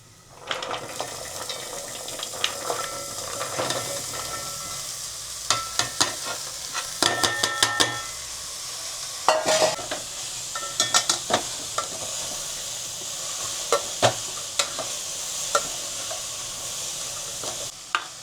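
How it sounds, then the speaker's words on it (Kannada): Vegetables with garlic sizzling in a hot pan for soup, a steady frying hiss under repeated sharp clinks and scrapes of stirring, close and continuous. "ಇದಕ್ಕೆ ವೆಜ್ಜೀಸ್ ಹಾಕ್ತಾ ಇದ್ದೀನಿ."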